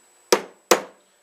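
Hammer striking a steel punch set against a bearing's inner race during installation: two sharp, loud close-up taps about 0.4 seconds apart, each ringing briefly before fading, with no talking.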